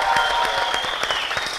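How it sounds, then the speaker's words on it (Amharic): Applause from an audience at a New Year's program in Ethiopia, a steady patter of many hands clapping throughout a short stretch at moderate level, with no talk over it. "ጭብጨባ"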